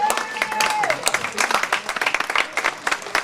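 A crowd at a 2012 closing ceremony in Yerres applauds nursing home staff, with fairly close, uneven clapping and a brief tone near the start.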